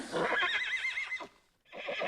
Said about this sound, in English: Oh, poor horses.